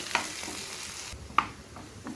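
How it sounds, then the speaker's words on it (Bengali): Onion and garlic frying in a pan while being stirred, a soft sizzle with a few sharp spoon-on-pan clinks, one notably louder, heard close with no talking. "এবার কিন্তু আমি পেঁয়াজ রসুনটাকে ভেজে নিতে হবে।"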